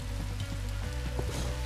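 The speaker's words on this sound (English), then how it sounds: "Rain." Rain falling in the video game Minecraft Story Mode: a steady, dense hiss that runs throughout under low, sustained game music.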